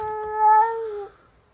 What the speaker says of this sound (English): these cats are beefing at 7 a.m.